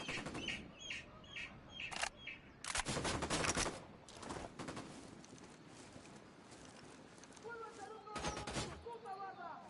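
Short, sharp bursts of automatic gunfire in Ghost Recon Wildlands, several separate volleys spread across the stretch with quieter gaps, birdlike chirps and game ambience between, and a voice speaking briefly.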